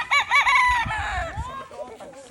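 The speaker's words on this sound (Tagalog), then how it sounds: "Ay kadamo sang mga manok nila kanami." Chickens at a Filipino farm clucking busily, with a rooster letting out a loud, close crow near the start that trails off into scattered clucks and faint background voices.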